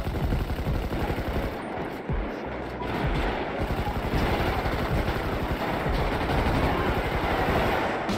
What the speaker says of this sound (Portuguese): E eu nem sei de onde que eu tô tomando tiro